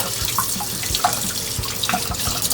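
A kitchen tap runs over a squid tube as it is rinsed out, a steady close rush of water with small splashes and drips, fairly loud and continuous.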